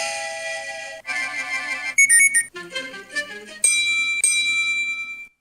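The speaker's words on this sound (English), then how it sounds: "What kind of an alarm is that?" An electronic alarm clock rings loud and close, cycling through several shrill beeping and chiming tone patterns in quick succession.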